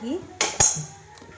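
A metal kadai set down on a stove, two sharp close metallic clanks a moment apart, then a softer clink, with a brief voice at the start.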